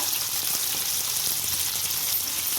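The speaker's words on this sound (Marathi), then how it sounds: "बटाटा आपल्या हे तेलावर छान परतून घ्यायचं आहे" Potatoes and chillies sizzle steadily in hot oil, a dense, even crackle of frying that carries on close and fairly loud without a break, with faint stirring underneath.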